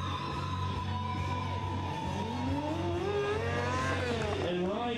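A freestyle motocross motorcycle revs wide open, its engine note rising and sweeping in pitch over a loud, busy crowd-like background, with commentary running underneath.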